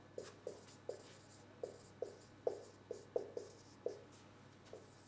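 Pen strokes writing out a linear algebra solution about matrix columns and spanning R4, a quiet, close series of about a dozen short scratchy taps in an irregular rhythm.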